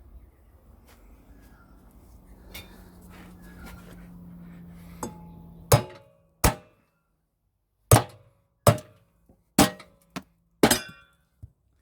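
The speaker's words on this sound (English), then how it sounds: "I might just give the spokes a smash with the hammer" A series of sharp metallic smacks, about eight hard hammer blows on rusty vintage washing machine spokes at uneven intervals, ringing briefly after a quieter stretch of background hum.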